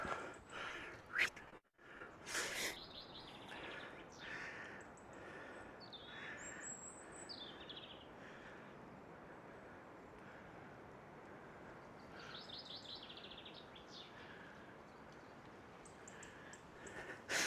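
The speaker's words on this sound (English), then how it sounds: "Don't know if you hear the birds singing from the noise cancelling" Faint birds chirp and caw intermittently in the distance at the Percha Earth Pyramids over a steady wash of wind-like background noise, with a brief thump near the start.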